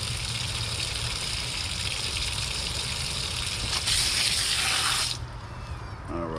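Water pours steadily into the condensate pump of a Lennox AC unit in an indoor closet, a continuous splashing rush with a low hum underneath, which shifts and eases near the end.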